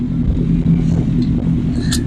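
A Ford Power Stroke diesel engine runs nearby with a steady low rumbling idle and a faint rising rev, loud and continuous with no talking.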